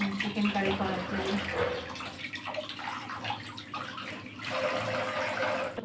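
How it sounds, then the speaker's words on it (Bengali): Tap water runs steadily while chicken pieces for curry are rinsed, a close, continuous splashing stream that wavers as the pieces are handled, with faint background voice. "প্রায় ধোয়া হয়ে এসেছে চিকেন কারি করার জন্য।"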